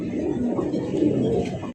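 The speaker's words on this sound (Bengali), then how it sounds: "হাঙ্গেরিয়ান বিবেক বুদাপেস্ট কবুতরের কালেকশন দেখতেই পাচ্ছেন" Hungarian Budapest pigeons in a loft coo close by in soft, throaty, overlapping rolls, steady and fairly loud throughout, with no talking.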